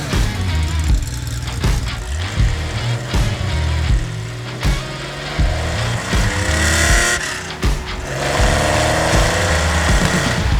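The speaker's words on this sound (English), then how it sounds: "what we're driving here is the new Velke Porsche 911 RSR, powered by a SuperTech high butterfly MF5 flat 6" Velke Porsche 911 RSR tribute car with a SuperTech MF5 flat-six engine, loud and close, rising and falling through repeated revs and gear changes with rasping exhaust bursts on the move.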